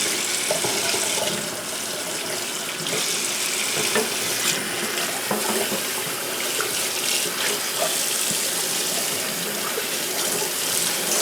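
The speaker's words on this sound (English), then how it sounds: "get some hot water going." Hot water runs steadily from a tap into a sink where keyboard parts for an Apple Macintosh A1048 refurbishment are soaking, a constant close splashing rush with small clinks and no talking.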